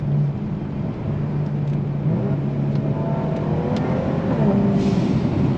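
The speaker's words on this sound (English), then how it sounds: "Supposedly third gear is the one that gives you the most amount of like gurgle or burble to it." A Kia Stinger with catless downpipes burbles in third gear, a low steady exhaust rumble from inside the moving car, with a few faint pops and crackles over the drone.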